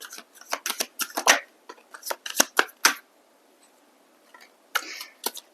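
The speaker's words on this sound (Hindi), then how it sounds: "let's try fetching some cards" Tarot cards being shuffled and drawn, heard as bursts of crisp riffling and flicking in quick clusters, close and moderately loud, with a quiet pause before a final few snaps.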